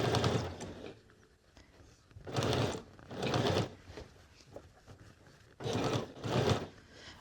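A sewing machine stitches bias binding into the sleeve of a bomber jacket in a few separate bursts, each about a second long, with quiet handling sounds between them.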